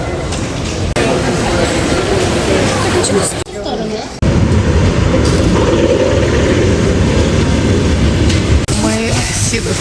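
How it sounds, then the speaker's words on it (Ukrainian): A train at a railway station gives a loud, continuous rumbling roar with rolling clatter, running steadily throughout with only a brief dip before it surges back. "потяг."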